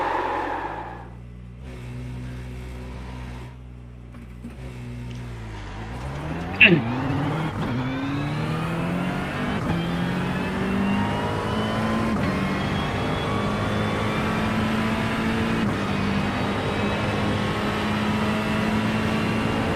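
Porsche engine in a racing game, droning low at first and then revving up through the gears into a sustained loud engine note with rising harmonics, running steadily to the end.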